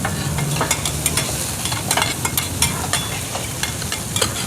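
Fried oysters sizzle and scrape in a big wok at a busy night-market stall in Nakhon Pathom, Thailand, with repeated metallic clanks of a spatula stirring in a steady, busy rhythm close by.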